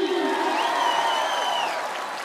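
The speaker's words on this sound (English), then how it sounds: "Let's have a loud round of applause for the one and only Sadhguruji." Audience applause and crowd noise for a spiritual figure at a live stage music performance, a steady dense wash of clapping held throughout at moderate level, with some tonal sound mixed in.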